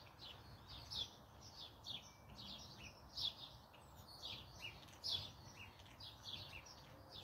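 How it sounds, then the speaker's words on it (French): Birds chirp in a quiet outdoor setting, repeated short bright calls at a regular pace, moderately distant and soft over a faint background hush. "Le silence et les oiseaux."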